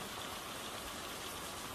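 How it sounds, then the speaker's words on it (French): Rain falling outside as a dense, loud, continuous wash of noise, steady throughout with no voices over it. "Qui sait jusqu'à quand il va pleuvoir?"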